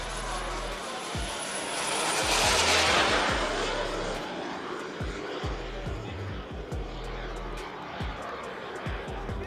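A large fiberglass composite RC model aircraft passes overhead, its engine swelling to a broad roar near the middle before fading back into a steady airfield rumble, with faint low thumps beneath.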